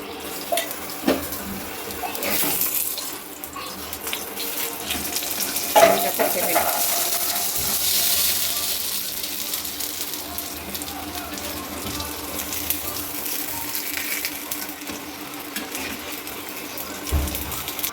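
Oiled aloo paratha frying on a hot pan gives a steady, close sizzle throughout, with occasional scrapes and taps.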